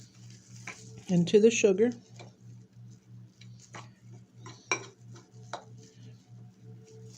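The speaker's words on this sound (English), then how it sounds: "Then we're just going to mix all that in together so it's all evened out" Apples and sugar being stirred together in a cooking pot for homemade applesauce, soft scraping and clinking strokes scattered through the clip, with someone talking briefly near the start over a faint steady ticking.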